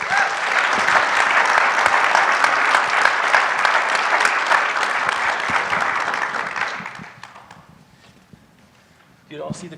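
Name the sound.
audience applause welcoming three guests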